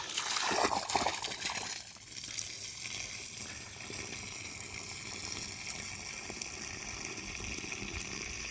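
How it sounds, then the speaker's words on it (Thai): Water spills over the rim of a container and splashes steadily without pause, a broad rushing wash that stays near and fairly loud throughout. "กระน้ำกำลังล้น"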